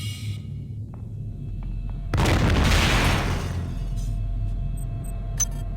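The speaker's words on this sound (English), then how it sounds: "Consoles explode." A console bursts apart in System Shock 2, a single loud, roaring explosion that erupts suddenly and then fades over about a second, leaving a low steady hum in the background.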